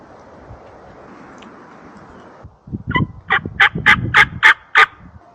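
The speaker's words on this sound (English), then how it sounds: "that bird just gobbled at that calling" A wild turkey gobbles in open woods along a logging trail, after quiet background hiss; several rapid loud gobbling bursts follow in a rhythmic series, fairly close and distinct.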